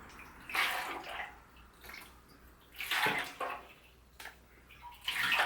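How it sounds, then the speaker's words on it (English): Water sloshes and gurgles in bursts over a ridge inside a motorcycle fuel tank during a project bike build, with several splashing pulses separated by quieter dripping gaps. "I'm making the water flow over that ridge"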